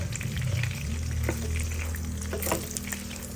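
An omelette fries in a pan during a home breakfast in Nueva Ecija, a close, steady sizzle with light crackles and a faint hum beneath, no one talking.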